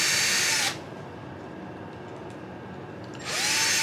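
A power drill whines at high pitch while driving screws into a GSPEED chassis of Delrin plastic, with two short bursts of running at the start and end and a quieter pause between them.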